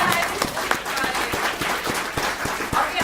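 An audience at a community college candidate forum applauds, a steady wash of many hands clapping with a few louder individual claps standing out, no talk over it.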